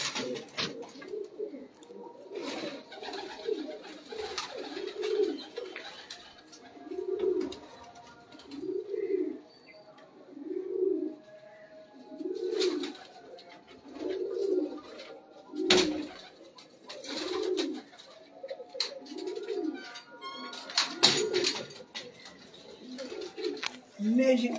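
Young flying pigeons of a prized breed coo in rhythmic, repeated rounds of low, throaty calls, close by and fairly soft. Occasional chirps and clatters sound between the calls, and someone talks quietly in the background.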